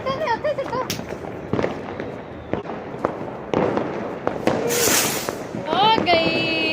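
Diwali firecrackers and fireworks burst in Amritsar, with repeated sharp bangs and crackles and a long fizzing spray, while people talk and children's voices rise throughout.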